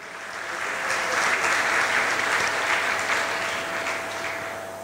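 A crowd at a 2020 graduation ceremony gives a full round of applause, a thick, sustained roar of clapping that swells slightly in the middle and fades a little at the close.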